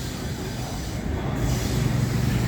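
Low, rumbling roar of a Delhi metro train passing nearby Akshardham temple, growing slightly louder, with a faint metallic whine from the wheels.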